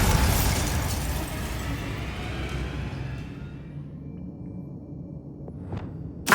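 A Bombarda explosion spell in Hogwarts Legacy erupts with a loud crackling burst that decays slowly over several seconds, followed near the end by a faint whoosh and a sharp pop.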